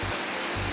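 A rushing waterfall on a jungle trek gives off a broad, constant hiss of falling water, loud and unbroken across the whole moment.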